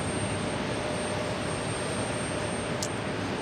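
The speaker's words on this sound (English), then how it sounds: "The march of the A330 300s. Now heading to Terminal 4." Airbus A330-300 jets taxiing toward Terminal 4 at JFK airport, a steady broadband engine whine and rush with a faint high tone, constant and moderately distant, no voices.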